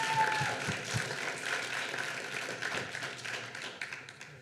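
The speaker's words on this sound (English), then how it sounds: "Let's give them a round of applause, please." A student government debate audience breaks into sustained, dense applause from many hands that fades slightly toward the end.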